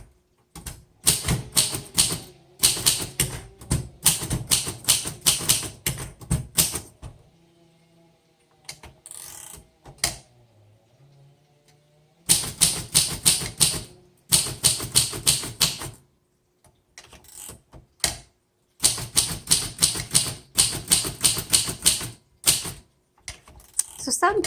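Typing on a 1937 Royal Model O manual typewriter: bursts of sharp, rapid key strikes in close-up, separated by short quiet pauses, with no talking.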